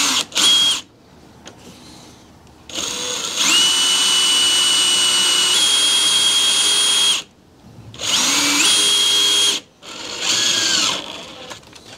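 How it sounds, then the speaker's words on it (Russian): A power drill drives a self-tapping screw into fiber cement siding panels, running in several loud sustained whirring bursts with short pauses between them, its pitch shifting as the screw bites. "Сейчас вот просверлим немножко саморез, потом раз подтянем и выставим ее"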